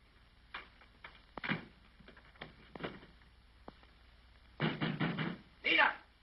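Heavy pounding on a door from a 1931 comedy film comes as loud, spaced knock bursts that grow to rapid clusters near the end, mixed with brief speech.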